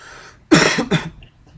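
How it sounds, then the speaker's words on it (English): Two harsh, close coughs from a person with a cold, in quick succession, loud and throaty, with quiet moments before and after. "It's just still got the coughs."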